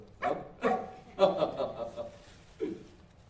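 Toto, the small dog in The Wizard of Oz, gives four short, separate barks at close range, roughly evenly spaced across a few seconds, with a voice briefly heard around them.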